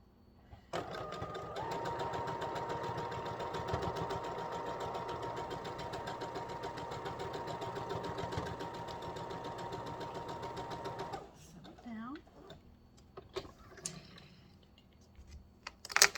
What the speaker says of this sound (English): lay that in there and just sew it down